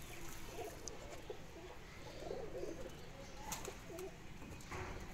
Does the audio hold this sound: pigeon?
yes